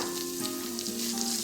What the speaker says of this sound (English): Now put 3 finely chopped onions.